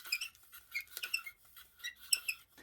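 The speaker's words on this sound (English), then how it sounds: "I don't care for the squeaking" A gel face roller gives off faint, high, irregular squeaks in short bursts as it rolls across skin, quiet and close with near silence between them.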